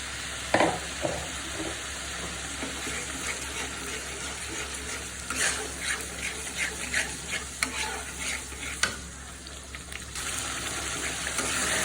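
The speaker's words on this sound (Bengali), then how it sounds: "এখন আমি যে মশলাটা রেডি করে রাখছিলাম সেটা দিয়ে দিচ্ছি।" Spiced masala frying and being stirred in a pan for a Bengali chicken roast, a steady sizzle with repeated scraping stir strokes throughout, close and moderately loud, no talking.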